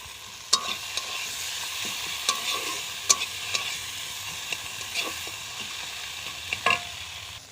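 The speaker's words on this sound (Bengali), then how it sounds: "সিমটা দিয়ে একটু নেড়ে চেড়ে নেব। সিমটা প্রায় ভাজা ভাজা হয়ে গেছে।" Flat beans (sim) being stirred and fried in a pan: a steady close sizzle with sharp intermittent scrapes and clicks of the spoon against the pan, no voices.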